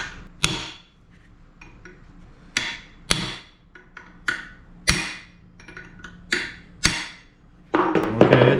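A hammer repeatedly strikes a chisel while working on the differential of a 1966 Ford Mustang, giving about a dozen sharp metallic blows at an uneven pace, near and loud, with no speech.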